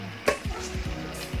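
A pot of chicken adobo with potatoes and pineapple bubbles and sizzles steadily up close, with a brief sharp clink near the start and soft repeated pops throughout; no talking.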